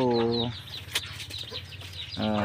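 Newly hatched chicks in a backyard poultry pen cheep in short bright bursts at the start and end, with scattered faint peeping and fluttering in between, close by.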